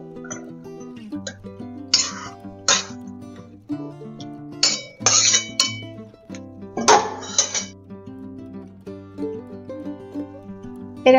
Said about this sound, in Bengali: হয়ে গেছে, এবার আমি ঢেলে নিচ্ছি।